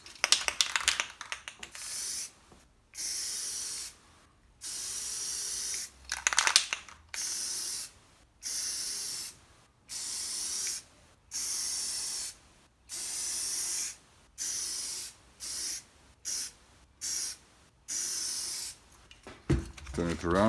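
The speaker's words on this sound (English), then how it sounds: "But this time I'll be spraying about 2 feet away" Repeated short bursts of a spray paint can hissing from about 2 feet away onto trail camera camouflage, about a dozen on-off blasts with brief pauses between, close and fairly quiet.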